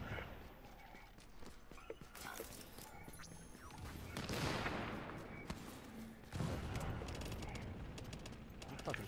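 Gunfire in the video game Manhunt is heard as scattered shots and short rattling bursts at moderate distance in a busy, noisy mix, with talk over parts of it.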